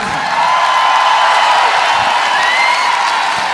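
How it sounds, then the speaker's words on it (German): Large concert crowd cheering and applauding after a live performance at a 50-year anniversary show; a loud, continuous wash of cheers and whistles. "Was ein Applaus!"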